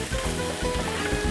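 Panini cooking in a hot pan, a brief steady sizzle with soft crackling, close and moderate in level, with no talk.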